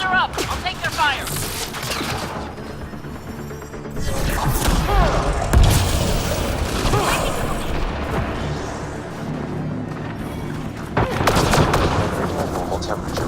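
Sci-fi gunfire and blasts from a Mass Effect: Andromeda firefight, with bursts and booms layered over game music and combat noise, swelling loudest around the middle and again near the end.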